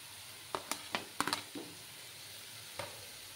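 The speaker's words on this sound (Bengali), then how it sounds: "আলু যে ভেজে রেখেছিলাম সেই আলুগুলো দিয়ে দিচ্ছি" Fried potatoes tipped into a pan of sizzling spices for a vegetarian potato dish, a few close clattering stirs and soft sizzles, then a lone scrape after a pause.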